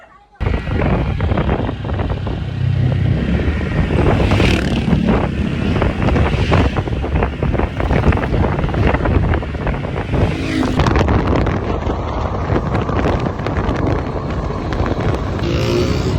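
Road traffic rumbles steadily on a drive toward Calamba, a loud continuous roar of passing vehicles with heavy wind buffeting the microphone throughout.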